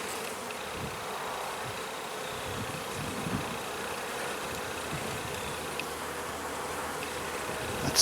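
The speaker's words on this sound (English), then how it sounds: "Nice calm bees." Honey bees buzz in a dense, steady drone around an open hive while frames are being inspected, the soft, continuous hum filling the scene at low level without speech.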